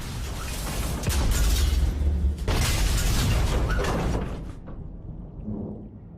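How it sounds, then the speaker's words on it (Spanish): Depth charges detonating near a World War II submarine bring deep, heavy booms and rattling metallic shudders through the hull, loud for several seconds before fading into a duller low rumble. "con explosiones que sacuden el barco"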